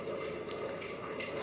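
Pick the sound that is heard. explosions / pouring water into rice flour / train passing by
pouring water into rice flour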